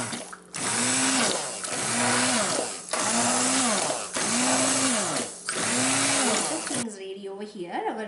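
An electric hand blender purees vegetable soup in repeated bursts of loud motor whine, about five pulses of roughly a second each with short gaps between, then a quieter stir of the pot at the end.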